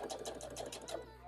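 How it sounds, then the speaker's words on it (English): A sewing machine stitches down the cuff of a denim puffer jacket, a fast rhythmic whirring pulse heard close and fairly quiet, with a voice speaking over it. "All right, so now we're gonna sew it down."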